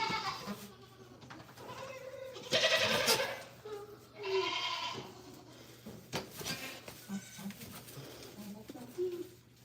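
Hungry goats, including a buck, bleat at feeding time on a goat farm, several loud overlapping calls coming in bursts at close range while a person talks to them.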